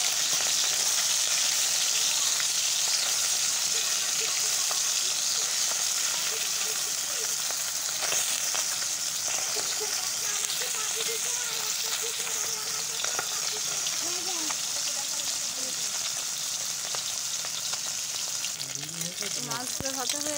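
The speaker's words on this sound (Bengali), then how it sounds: "চলো আগে মাছগুলো ভেজে নিই" Fish sizzles steadily in hot oil, a dense, continuous crackling hiss that holds for the whole stretch, with faint scattered clatter from stirring and utensils but no talking.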